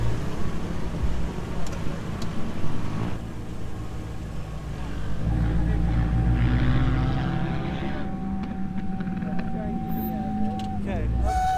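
A heavy truck's engine overheating with the AC running sets up a low droning rumble with a thin steady whine above it, close by, while voices talk over it.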